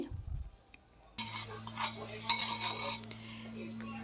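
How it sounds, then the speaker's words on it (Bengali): Sugarcane jaggery goes into a wok that was just used for roasting peanuts, with a few metallic clinks and scrapes. A steady low hum from the stove runs underneath and there is no speech. "যে কড়াইতে বাদাম ভেজেছি সেই কড়াইতে আমি এখন আখের গুড় দিয়ে দিচ্ছি"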